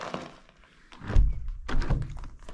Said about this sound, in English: As you close the door or open the door, those pins move.